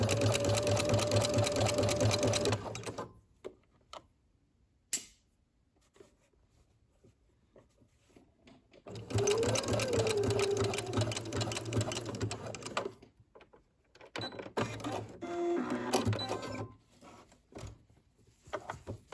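A sewing machine runs in several bursts while stitching a maxi dress seam, its rapid mechanical whir close and steady, stopping between runs with quiet pauses and small handling clicks.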